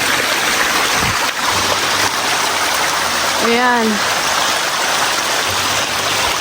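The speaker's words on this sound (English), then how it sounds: "Ayan na ang waterfalls." Steady rushing water of a waterfall at Placerita Canyon on a rainy day, a dense continuous roar close by, with a person speaking briefly over it.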